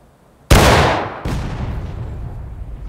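Musket volley during skirmish training in the video game War of Rights, a sharp loud blast followed by a second ragged volley less than a second later, each trailing off into echoing rumble, with no voices.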